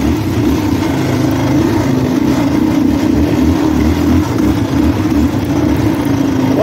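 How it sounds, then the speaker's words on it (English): A Yamaha Raptor 660R ATV with a starting problem runs with a loud, close, steady engine drone that holds at high revs without dropping, no voices over it. "If I rev the shit out of it, it'll go."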